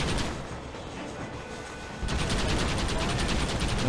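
Gunfire in Red Dead Redemption, played on PS5, comes in as a dense, loud run of rapid shots that sets in sharply halfway through and continues over a rumbling background.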